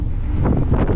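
Wind buffets a microphone outdoors on the Crimean coast near Koktebel, a loud continuous low rumble with gusty surges and no voices.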